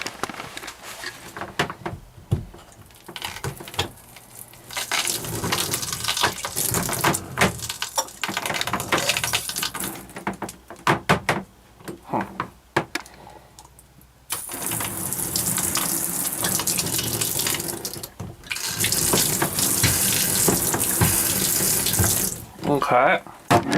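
Water runs from a travel trailer's faucets and shower during winterizing: a steady gush of tap water, louder near the end, with short breaks where the flow stops and restarts, and faint talk in places.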